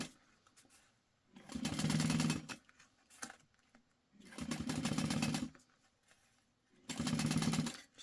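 Sewing machine chain stitching fabric pieces together in three steady running bursts of rapid mechanical whirring, each about a second long, separated by short pauses with faint handling noises.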